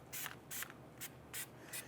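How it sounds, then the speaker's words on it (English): Anti-seize compound sprayed from an aerosol can onto a Jeep Grand Cherokee wheel hub, four or five short close hissing bursts in quick succession with brief pauses between them. "we're going to spray this down with some anti-seize compound"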